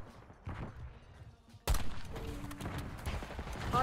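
Sniper rifle fire in Black Ops 6 on the Nuketown map, a sudden loud shot cutting in partway through after a quieter stretch, followed by a busy din of further gunfire and game noise with faint talk.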